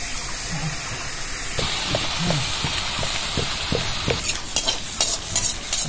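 Jackfruit malpua batter sizzles and hisses steadily in hot oil in a wok, with close, continuous frying crackle and occasional ladle stirs or taps on the pan.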